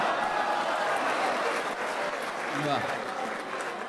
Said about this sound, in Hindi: आप दाद दे रहे हैं, तालियां बजा रहे हैं